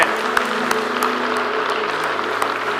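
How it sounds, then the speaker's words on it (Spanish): A church congregation breaks into sustained applause during a Spanish-language worship service, steady clapping from a large group filling the room, with a faint murmur of voices and a low hum underneath. "Den un fuerte aplauso más grande a nuestro Dios."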